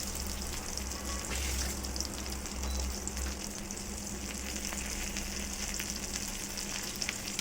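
Chopped garlic and green chili fry in hot oil with a steady, close crackling sizzle that runs unbroken throughout, with no voices.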